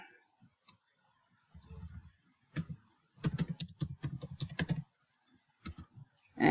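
Keystrokes on a computer keyboard come in short bursts with pauses between, close and fairly quiet, clattering clicks in a quiet room with no talking.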